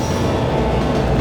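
Subway train rumbling past in the Blade Runner PC game, a loud, steady low roar of wheels and carriages filling the whole moment without a break.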